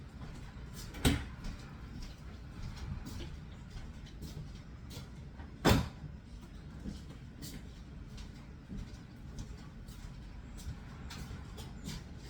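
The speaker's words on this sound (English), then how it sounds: "I gotta lock my back door" A back door is locked indoors, giving two separate sharp clicks several seconds apart over a faint, low background hum.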